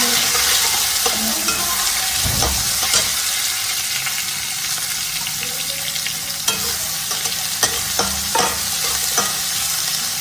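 Onion tumbles into a hot pan with garlic and fries in a loud, continuous sizzle, with scattered scraping stirs and clinks of the spoon close by.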